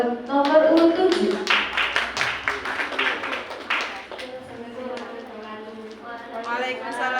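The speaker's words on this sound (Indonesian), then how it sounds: "Beri tepuk tangan buat nomor urut 7." Audience clapping for contestant number 7 at a vlog competition's presentation and Q&A session, a scattered burst of claps running under loud, continuous talk from a presenter.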